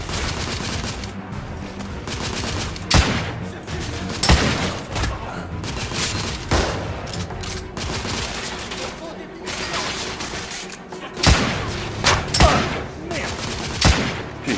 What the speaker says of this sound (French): J'essuie des tirs, Noé.